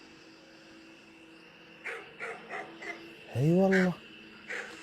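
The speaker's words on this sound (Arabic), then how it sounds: "احسب ان في كلاب حولكم وشيء ما ادري" Dogs barking nearby during a live stream: a few short yips, then one louder drawn-out bark or howl, close and clear over a low background hum, with a voice speaking briefly.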